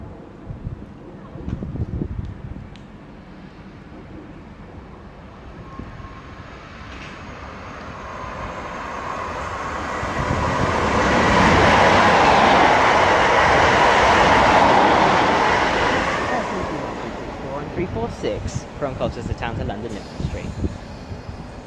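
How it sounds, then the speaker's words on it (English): A Colchester Town to London passenger train passes through a station at Romford, a broad rushing roar that swells to a peak midway and then fades, heard from nearby with wind noise and people talking around it. "the Colchester Town to London service is now passing through"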